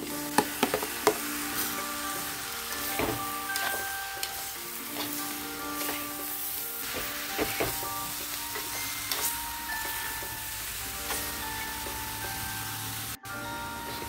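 Half a kilo of anchovies hits a hot pan and sizzles steadily, with a constant crackling fry, occasional scraping stirs and clinks of a utensil throughout, close and fairly loud.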